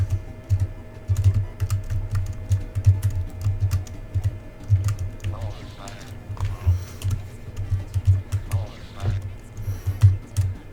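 Computer keyboard keys clatter in quick irregular bursts while a video game is played, close and fairly soft, with faint game sounds and a voice now and then underneath.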